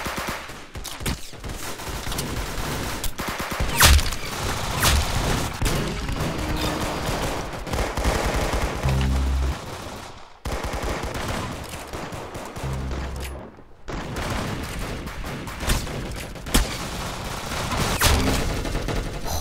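Rapid gunfire crackles through a video game firefight, including musket shots, with continuous loud volleys, brief pauses and sharp single reports standing out.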